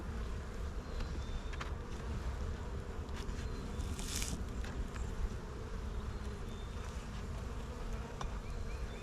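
Calm honeybees hum during a hive frame inspection, a soft continuous buzz of many bees close to the frame, with a few faint knocks and one brief hiss mixed in, and no voices.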